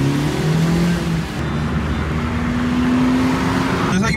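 Delhi road traffic heard through an open car window during a drive, a loud steady roar of engines and tyres with passing vehicles and a low droning hum.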